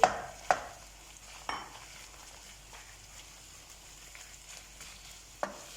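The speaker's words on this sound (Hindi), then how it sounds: "कीमा को मैंने 2 से 3 मिनट इसी तरह ऑयल में भून लिया।" Minced mutton fries in oil in a karhai with a soft, steady sizzle, punctuated by a few sharp scrapes and clinks of stirring.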